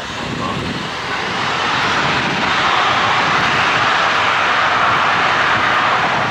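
A loud, steady jet roar swells up and holds, close and powerful, like aircraft engines at full throttle on a runway, as Red Arrows display jets take off at the RIAT air show.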